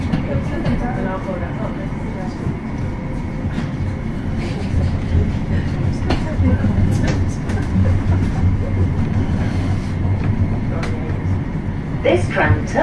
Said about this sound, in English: This tram is about to depart.